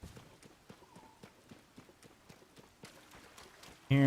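Hooves of a video-game horse clip-clop in a steady running rhythm, moderately close, then a sudden loud burst of other game sound cuts in at the end.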